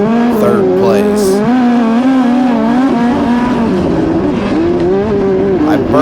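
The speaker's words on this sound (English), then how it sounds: "I'm racing Gavin Miller right now for 3rd place" The 7x race car roars around Macon Speedway, its engine note wavering up and down through throttle changes as it battles for position, loud and close throughout with a steady wind-buffeted rumble.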